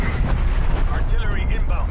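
Artillery explosions in the shooter game WarZone, a continuous low booming rumble with bursts of blast noise, heard under talking and radio-style voice callouts.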